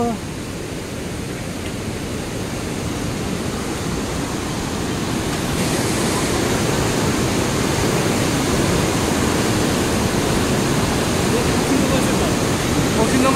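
A swollen white-water river rushes beside a bridge near Phoksundo after heavy rain, a loud, steady roar that fills the whole stretch and grows slightly stronger midway.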